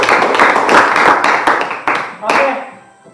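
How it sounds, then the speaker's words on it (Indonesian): A classroom of seventh-grade students claps together, a loud, dense burst of hand claps lasting a few seconds and then tapering off, with some talk mixed in. "Tepuk tangan dulu"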